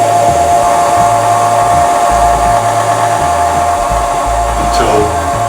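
A stand mixer turns cardamom bread dough with a paddle at low speed, making a loud, steady motor whine with a low, rhythmic thumping as the dough churns in the bowl.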